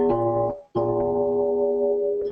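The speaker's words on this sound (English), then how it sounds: "Here's a diminished fifth." A diminished fifth (tritone) interval played on electric guitar, two notes sounding together, struck twice with a short gap between, ringing loud and sustained with no talk.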